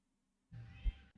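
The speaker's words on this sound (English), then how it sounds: "I can hear my cat just like meow" A pet cat meows once, a fairly close, drawn-out cry that rises out of near silence and ends with a brief bump of low noise.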